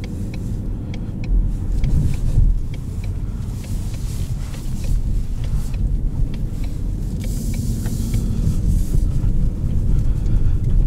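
A 2020 Ford Mustang GT in track mode cruises a loop over bumpy roads, its engine giving a steady, loud low rumble with road and tire roar throughout, swelling slightly a few times. No one speaks.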